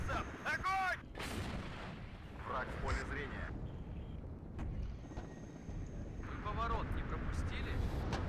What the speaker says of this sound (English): Still have 11 shots in Grad, so that's something nice. And I'm gonna fire that here straight away.